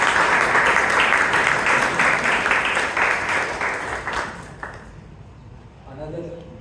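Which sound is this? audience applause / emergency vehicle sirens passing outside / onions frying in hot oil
audience applause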